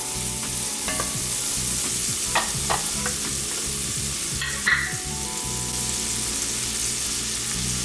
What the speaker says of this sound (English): By the way, this is the bacon grease that we used earlier. I'm frying the onion in.